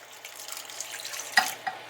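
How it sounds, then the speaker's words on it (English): Half a cup of hot water poured into a bowl onto honey and yeast for pretzel dough, a soft steady trickle heard close up, ending with a brief splash and a light clink. "And we're going to put a ½ cup of hot water in there."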